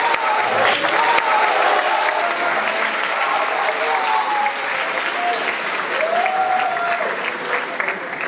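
Concert audience at a school music performance gives warm, sustained applause, a thick continuous patter of many hands, with faint voices or a brief tone sounding through it.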